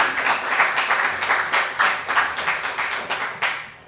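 An audience at an Oregon cap-and-trade climate event bursts into applause, dense overlapping clapping rising and falling in waves, fairly close and loud, with no talk over it.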